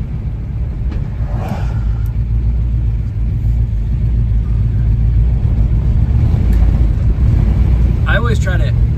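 A 1970 Chevelle's engine rumbles heavily and close as it is given some throttle, a steady low growl rising slightly while driving, with a person speaking briefly near the end.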